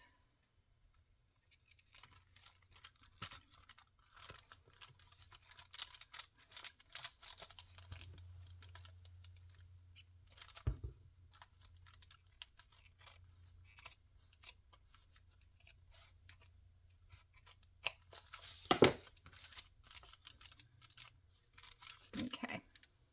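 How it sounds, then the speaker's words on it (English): Scissors trim off excess pieces with a run of quick, crisp snips and clicks, close by and fairly quiet, with a few louder cuts and no talking. "Trim off these excess pieces."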